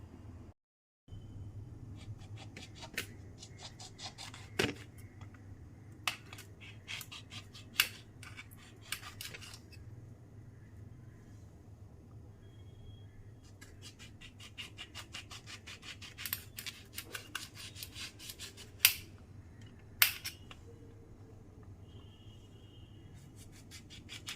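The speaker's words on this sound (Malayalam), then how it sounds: "ഇനി നമുക്ക് ഇത് കട്ട് ചെയ്തെടുക്കണം ചെറുതായിട്ട് അരിഞ്ഞെടുക്കണം" A knife cuts a lemon into small pieces for pickle, making sparse, irregular sharp taps and clicks against a board over a quiet low hum, with no one speaking.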